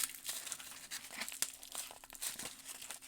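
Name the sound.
tight tape being peeled off a knife package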